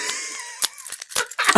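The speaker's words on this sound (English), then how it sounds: "Yeah, just jiggle some keys." Keys jingled by hand in a close-up quiet setting, a few short bursts of metallic clinking separated by brief pauses, with no talking.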